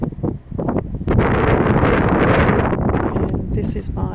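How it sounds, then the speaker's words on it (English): Strong wind gusting across an open backyard vegetable garden, a loud, steady roaring rush buffeting close by the microphone, with a voice briefly heard over it. "Here comes that wind."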